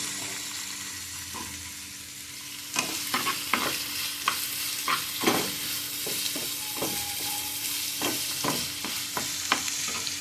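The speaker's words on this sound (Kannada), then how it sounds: "ಐ ಫ್ಲೇಮಲ್ಲಿ ಫ್ರೈ ಮಾಡ್ತೀನಿ" Food fries over a high flame in a pan with a steady sizzle throughout. Irregular scraping and clinking strokes of a stirring utensil join partway through, close and clear, with no talking.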